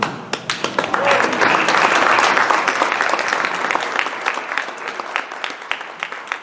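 An audience at an outdoor park launch event claps loudly, with dense applause swelling and then thinning into scattered individual claps toward the end, some voices mixed in.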